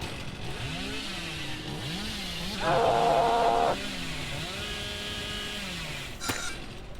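A chainsaw in Dead by Daylight revs with a whining, buzzing drone, swelling into a loud, harsh burst for about a second before settling back amid game noise, ending with a sharp click.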